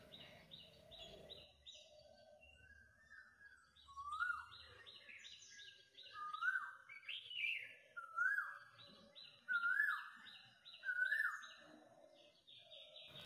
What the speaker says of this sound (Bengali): মেঘলা দিন সাথে কোকিলের ডাক।